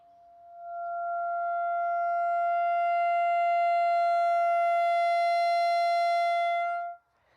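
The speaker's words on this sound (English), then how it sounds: "The other thing I really like about playing the clarinet is the dynamic range" A single sustained clarinet tone swells in from quiet, holds steady and loud for several seconds, then cuts off abruptly.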